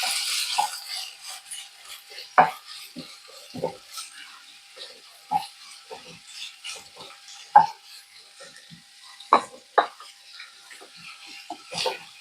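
Cut shallots frying in a pan for egg curry give a faint, uneven sizzle with soft crackles and scattered stirring clicks, a few sharper pops standing out over a quiet background.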